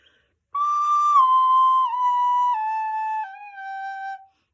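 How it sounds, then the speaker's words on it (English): A recorder plays a run of slurred descending notes, smoothly connected without gaps, close and clear with nothing else around it. "just so you can hear what slur sounds like"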